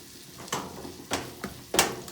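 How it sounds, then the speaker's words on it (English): Garlic and ginger frying in a pan for salt and pepper shrimp, a soft continuous sizzle broken by four stirring scrapes and surges at irregular intervals, close and without talk. "brown the garlic and ginger a little bit"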